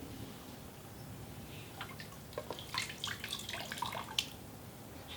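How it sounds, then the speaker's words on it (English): A compost tea bag is dunked up and down in a bucket of water, giving scattered soft splashes and drips in a cluster of quick sloshes, moderately close and alone. "I just stick it in this bucket of water. And I move it up and down a few times"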